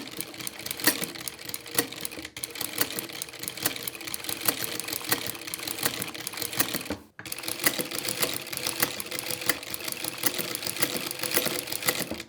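Industrial sewing machine with a pleating presser foot stitching fabric into pleats, a fast steady close-up mechanical clatter that runs continuously with one brief stop partway through, no voices.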